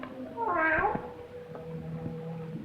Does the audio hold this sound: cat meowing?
yes